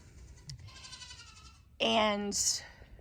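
Goats bleat loudly in a barn, one strong, wavering call near the end after quieter bleating and low background noise earlier.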